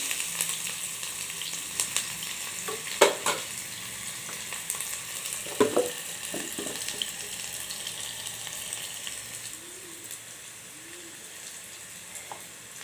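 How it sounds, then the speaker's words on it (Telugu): Onions frying in oil for an aloo, brinjal, tomato and pea curry, with a continuous close sizzle, occasional spatters and stirring clinks, easing slightly toward the end. "ఇప్పుడు ఇదే ఆయిల్లోకి ఉల్లిపాయలు వేస్తున్నాను ఉల్లిపాయలు వేసి వేయించుకోవాలి"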